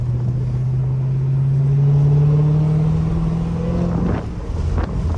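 A Dodge Hellcat's engine drones loudly and steadily through city streets, its low exhaust note rising slightly in pitch as it accelerates, then easing off near the end with a brief roar of revs and wind rush.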